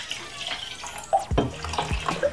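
Water poured into a glass in a kitchen, a short splashing pour with rising gurgle and a few clinks and knocks of the glass, close and moderately loud.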